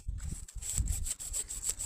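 A small hand saw rasps back and forth through perennial candytuft (Iberis) roots in a steady rhythm of strokes, close by, with some low rustling between strokes.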